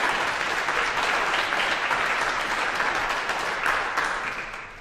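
A church congregation at a Sunday worship service claps together in steady, dense applause that fills the room, then begins to fade toward the end.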